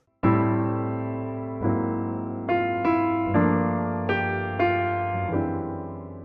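A jazz turnaround of about seven sustained keyboard chords struck one after another, each ringing and fading, with the bass line descending in half steps, the last chord quite dissonant; no voices.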